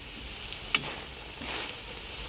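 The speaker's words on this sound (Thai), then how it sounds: "เราเคี่ยวด้วยไฟอ่อนๆไปเรื่อยๆ นะคะ" Pork with shrimp paste simmering over low heat in a pan, giving a faint, steady soft sizzle with a few small pops and clinks of stirring, quiet and close, without talk.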